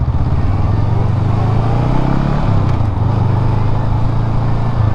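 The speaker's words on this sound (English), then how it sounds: "There's so much traffic." A motorcycle ridden through busy road traffic produces a loud, continuous engine drone with steady wind and road rumble, a brief shift in engine pitch midway, and other vehicles blending in close by.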